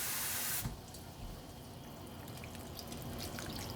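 Water gushes into a pot of beef stew with a loud, splashy pour at first, then settles into a softer, steady trickle and bubbling hiss.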